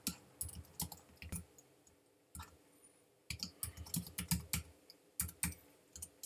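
Computer keyboard keys clicking in quick bursts of typing, with pauses between runs, as shortcuts cut and paste a line of code during a programming lecture; close and fairly quiet, with no talk.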